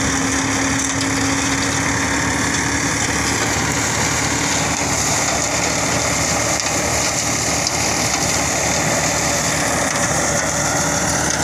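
A sugarcane trash shredder machine shredding cane field trash drones loudly and steadily throughout, with a constant high-pitched whine and rumble, running close by without letting up.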